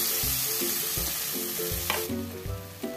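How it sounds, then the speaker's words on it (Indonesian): Blended spice paste for Padang-style beef gulai hits about three spoonfuls of hot oil and sizzles loudly and steadily, close up, with utensil stirring over it and no talking. "Setelah panas, langsung saja kita masukkan bumbu yang sudah kita blender."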